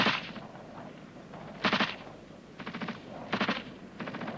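Covering fire from an infantry section's gun group, sounding as several sharp bursts of automatic gunfire at irregular intervals, each a rapid cluster of shots, moderately loud over a quiet outdoor background.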